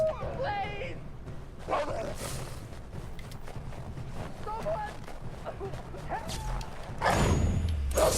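Dogs bark in the Assassin's Creed 3 video game, several short yips and barks scattered through the clip under an excited man's near, continuous talking.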